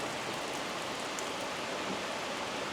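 Heavy rain falls outdoors at a camping spot in a dense, continuous hiss, steady and close with no voices.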